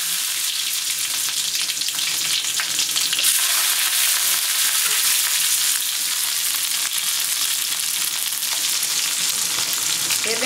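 Mustard seeds, lentils and fennel fry in cold-pressed sesame oil for a bottle gourd sambar tempering, giving a loud, dense, unbroken sizzle and crackle with faint stirring underneath.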